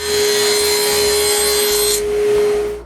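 A table saw with a sled cuts plywood bottom panels for a wooden board game, giving a loud, steady whining buzz for about two seconds before the cut ends and the blade spins on.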